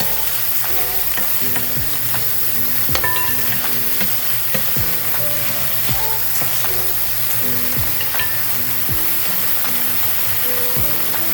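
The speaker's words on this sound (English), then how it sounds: "In with our rice. And give that a nice mix." Rice is stirred into a sizzling pot while a lamb shank dish is being made. Steady loud frying hiss continues throughout, with a spoon scraping and clinking against the pot at irregular intervals.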